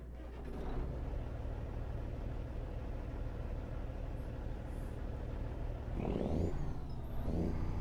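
A Freightliner FLB truck engine in American Truck Simulator holds a steady, deep diesel drone, then revs up twice near the end with rising pitch. The sound is loud, continuous and close, with no talk.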